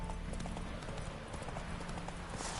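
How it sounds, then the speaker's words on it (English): The horse Roach gallops in The Witcher 3 with a steady, rapid clip-clop of hooves that stays continuous and fairly close throughout. "Run, Roach."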